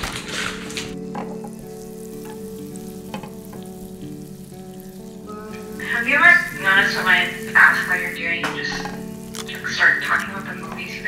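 Butter melting and sizzling in a nonstick pan, a steady crackling fry running throughout and swelling louder in the second half, with a voice talking over it.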